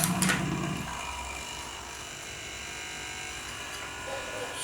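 A Takari AT-105 electric air pump runs with a steady, fairly quiet mechanical buzz, a louder burst at the start settling into an even hum.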